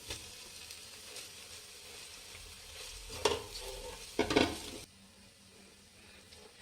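Rice being stirred into cooked egg in a hot pan for hotel-style egg rice, with scraping and faint sizzling, two louder clattering stirs in the middle before the sound drops away.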